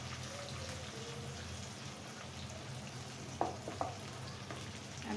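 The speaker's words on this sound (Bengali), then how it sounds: "আমি এখন খুব সুন্দর করে একদম লাল করে পেঁয়াজটা ভেজে নেব" Onions fry in hot mustard oil in a pan, making a steady, dense sizzle throughout with a couple of brief clicks from stirring near the end.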